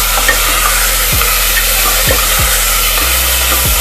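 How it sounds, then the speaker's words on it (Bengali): Marinated chicken goes into a pan of half-fried onions for a chicken stew, with a loud steady sizzle and a few scraping stirs of a spatula against the pan. "এবার ম্যারিনেট করা চিকেনটাকে দিয়ে দিলাম।"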